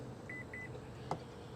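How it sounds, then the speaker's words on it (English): A 2023 Honda Pilot Elite power tailgate gives two short, thin electronic beeps in quick succession while its height is set, followed by a brief click, all quiet and close. "push it up all the way, hold the button and listen for the beeps."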